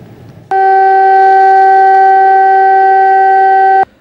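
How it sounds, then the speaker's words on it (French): A siren at the Place des Martyrs in Dédougou, Burkina Faso, sounds for a minute of silence as a single loud, steady electronic tone that starts abruptly, holds level for about three seconds and cuts off cleanly. "La sirène retentit."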